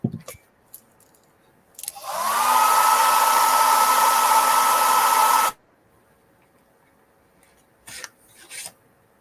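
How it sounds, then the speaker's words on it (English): Hair dryer blow-drying freshly varnished paper craft pieces, a steady loud whirring roar that switches on after a couple of seconds, runs about three seconds and cuts off, with faint handling clicks before and after. "let me blow dry them"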